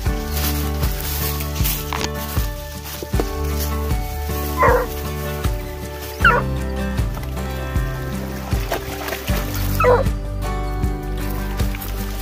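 Several young bear hound pups barking, yipping and whimpering close by in a rapid, overlapping series of short barks that keeps going without pause, loud throughout, with no talk.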